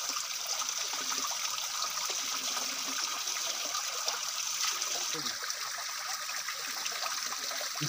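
Fresh mountain water trickling in a forest during a provincial hike, a steady, moderately loud stream flowing continuously with no voices.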